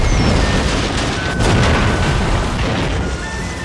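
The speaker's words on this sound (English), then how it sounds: "Mighty steam-powered ironclad warships armed with torpedoes make naval battles" Explosions boom during a naval battle of steam-powered ironclad warships with torpedoes in Total War: Shogun 2 Fall of the Samurai. The loud, dense barrage rumbles continuously with no pause.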